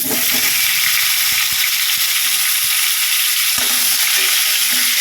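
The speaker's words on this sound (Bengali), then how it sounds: "এটা করার জন্য কড়াইতে একটু সাদা তেল কালকারি ছিল, সেইটার মধ্যে আমি আলু আর পেঁপেটা ভেজে নেব।" Potatoes and papaya fry in white oil in a wok, a loud continuous close sizzle with occasional stirring scrapes and knocks throughout.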